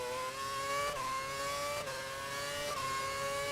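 An F1 race car engine in F1 2011 screams loudly and steadily, its pitch climbing, then briefly dropping at each of three quick gear shifts, with no other sounds.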